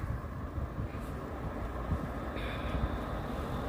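A low, steady rumble with a broad roar, like a train rolling past nearby, with no clear voices.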